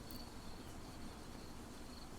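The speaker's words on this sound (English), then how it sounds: "if not for these cicadas. They're always out here at night. Chirping." Cicadas chirping on a summer night outdoors, a thin, steady high-pitched drone that holds evenly across the moment, faint and distant against quiet background hiss, no voices.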